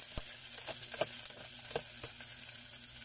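Garlic and onion sizzle steadily in a hot pan for chicken pochero, a continuous hiss with faint clicks of stirring, close and moderate in level.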